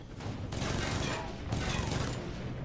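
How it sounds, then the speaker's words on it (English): Enemy gunfire in the video game Alpha Protocol, sustained bursts of shooting with mechanical clatter that run steadily for a couple of seconds at moderate loudness, with no one speaking. "Why are they shooting the ground where I threw the grenade?"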